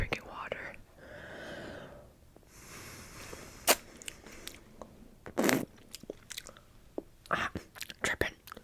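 Close, crisp crunching and wet slurping bites on a frozen salted lime popsicle, in irregular bursts, with soft whispering early on.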